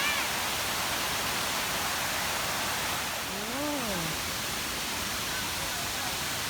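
Kanching Waterfall in Rawang roars as a dense, steady broadband rush of falling water close by, with a short voice briefly heard over it.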